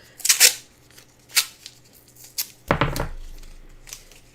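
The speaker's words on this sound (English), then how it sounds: "you can take the tape and basically rip it down the middle" Masking tape ripped lengthwise down the middle for a watercolor autumn tree painting: a few short, crisp tearing rasps early on, then a longer, louder rip that trails off. No talking.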